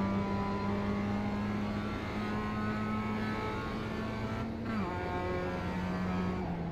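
A USF 2000 race car in the rFactor 2 sim racing game crosses the finish line, its engine droning steadily and close, then dipping briefly as it lifts before the note resumes, continuous and alone.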